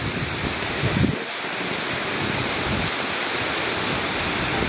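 An old waterfall roars as a steady, dense rush of falling water, close and loud throughout, with a brief surge of heavier rumble about a second in.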